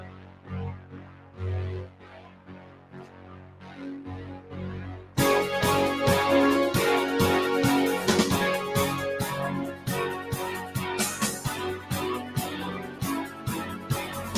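A song opens with a softer keyboard passage, then the full band crashes in with busy drumming, loud and dense through to the end.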